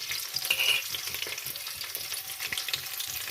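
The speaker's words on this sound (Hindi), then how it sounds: "लहसुन को हम हल्का सा फ्राई कर लेंगे" Garlic frying lightly in melted desi ghee in a pan, a steady soft sizzle with faint crackles and occasional stirring, close and continuous with no talking.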